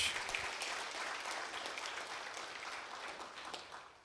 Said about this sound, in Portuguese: Vamos aplaudir ao Senhor nessa noite.